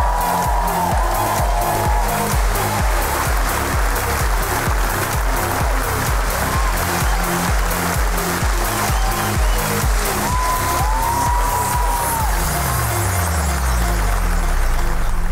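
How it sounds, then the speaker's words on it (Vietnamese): On a Vietnamese TV comedy game show, a studio audience applauds to welcome a guest, the clapping and light cheering running loud and steady for fifteen seconds over a pounding rhythmic music bed. "Một tràng vỗ tay để chào đón Trọng Hiếu."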